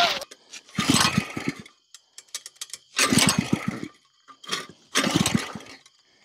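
A small engine fueled with rubbing alcohol sputters in three rough bursts of rapid mechanical chatter, each a second or so long, separated by near silence and brief clicks as it struggles to keep running.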